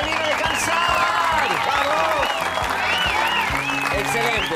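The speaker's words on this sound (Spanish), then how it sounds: "Arriba el aplauso." Audience clapping and cheering at a live comedy and magic show in Castelar, loud dense applause with whoops and shouted voices rising over it throughout.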